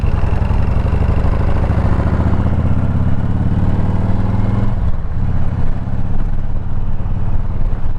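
A motorcycle engine runs loud and steady on a ride, holding a throbbing tone before a brief dip and shift near the middle, then carrying on at a changed pitch.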